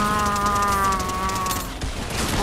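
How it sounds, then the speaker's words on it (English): Rapid automatic gunfire in the Fortnite video game, a dense burst of shots with a tonal ring over it, loud and close, tapering off near the end. "Who's shooting me?"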